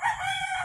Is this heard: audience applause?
no